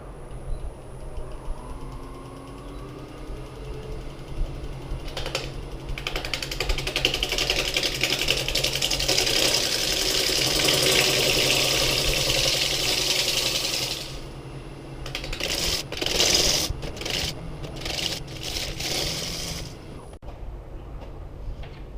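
A wood lathe spins a small walnut bowl while a gouge cuts it, giving a sustained, rough scraping whir that swells in the middle and then breaks into short choppy bursts before stopping, close up and with no speech.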